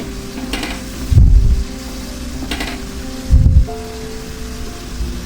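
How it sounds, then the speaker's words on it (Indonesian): Ground spice paste with bay leaf and lime leaves sizzles steadily in hot oil in a home kitchen, with two dull scraping thumps as a spatula stirs the pan. "Kemudian kita tumis hingga bumbunya matang dan tanak."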